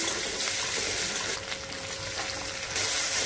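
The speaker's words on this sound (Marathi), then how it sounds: "बटाटा आणि टोमॅटो छान परतून घेऊ आपण, मऊ होईपर्यंत" Potatoes and tomatoes sautéing in a pan, a loud dense continuous hiss of frying with a slight dip midway and faint stirring, without any talk.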